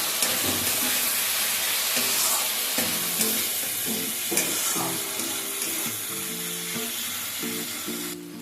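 Turmeric and chili powder fry in a pan while being stirred for a fish curry, giving a steady close sizzle and hiss with repeated scraping strokes of the utensil and no talking.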